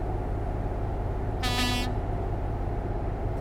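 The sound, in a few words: truck horn honking in video game Euro Truck Simulator 2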